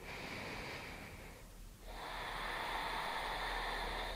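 Slow, deep breaths drawn in and let out during a gentle desk stretching routine, a soft, close breathy hiss with a brief dip between breaths.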